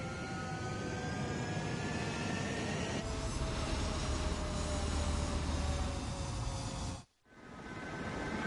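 Fighter jets in the video game Ace Combat 7 roar on a runway at takeoff, a steady engine drone with high whine that rises in power partway through and briefly cuts out near the end.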